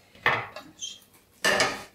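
Cream for a one-egg cake is scooped out of a hot-bottomed cooking pot into another bowl, giving two close, clattering scrapes of a utensil against the pot with a quieter pause between them and no talk.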